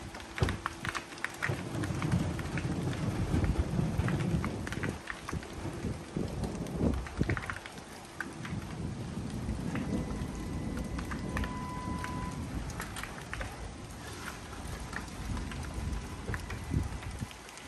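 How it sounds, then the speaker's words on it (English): Heavy rain beats down during a storm, a dense, loud wash with scattered clattering drops, gusts of wind buffeting the microphone and low rumbling underneath throughout, with no talking. "It just started raining. There's lightning."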